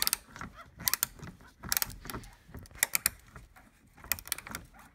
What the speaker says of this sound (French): on va pouvoir utiliser la clé à cliquer puis dévisser avec la clé